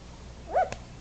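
Sheltie puppies give a single short whimpering yip, a brief high cry near the middle of a quiet moment with faint room noise around it.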